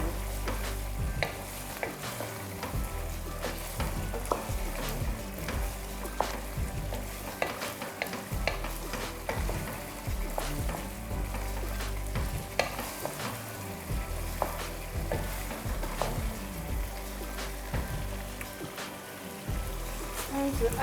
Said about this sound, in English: Now I'm going to add my fish, my smoked Titus fish. Have to stir carefully.